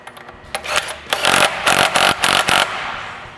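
Power impact tool torquing the flywheel nut on a Club Car FE350 engine, a few short bursts and then a series of loud, evenly spaced rattling pulses, close and alone.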